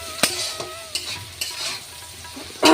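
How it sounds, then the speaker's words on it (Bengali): Onions fry in a pan for a meat curry, giving a close sizzle broken by several sharp scraping stirs of a spatula spaced through the moment, ending in a louder burst of hiss. "আর এখানে আমি পেঁয়াজটা ভাজছি, মাংসটা করবো।"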